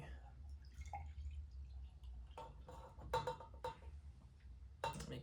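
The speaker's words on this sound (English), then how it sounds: "I should actually pour the coffee in here so you guys should see what it looks like." Coffee poured into a metal canteen cup, heard as quiet, intermittent drips and dribbles with small clinks of the cup, close up and faint, arriving in short separate bursts with no speech.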